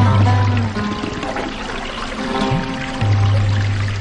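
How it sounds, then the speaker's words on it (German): Water flows through underground qanat canal tunnels fed by subterranean springs, making a steady, fairly loud rushing pour throughout, with a low droning hum in the first and last stretches. "Durch die Kanaltunnel fließt Wasser aus unterirdischen Quellen."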